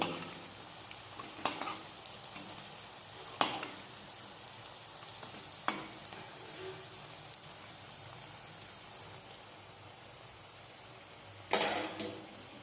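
Onion fritters (piyaju) fry in a pan with a quiet, steady sizzle and hiss, broken by occasional clinks and stirring scrapes.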